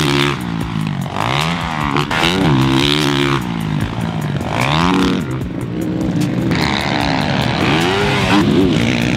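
A 2020 Honda CRF450 motocross bike engine revs hard and close, climbing and dropping in repeated loud surges as the throttle is worked.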